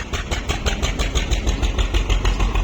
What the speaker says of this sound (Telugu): 1 సిలిండర్ ట్రాక్టర్ మాట ఇది మనది.